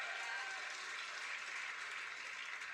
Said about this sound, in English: Why are you clapping for that?